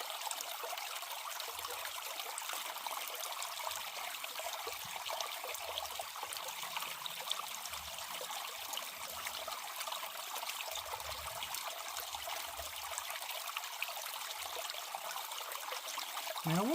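Water swirls and trickles steadily in a gold pan while a small amount of concentrates from a river sluice drain mat is panned, a close continuous wash with faint low sloshes.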